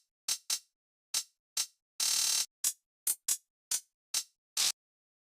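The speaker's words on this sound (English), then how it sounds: "I have created a hi-hat pattern, as you can see, and it goes something like this." A programmed hi-hat pattern in a wavy type beat, with short crisp ticks in an uneven rhythm and one longer sustained open hat midway, played alone and fairly quiet.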